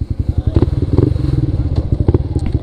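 A dirt bike engine idles and revs nearby with a loud, rapid, uneven putter and some rattling clatter.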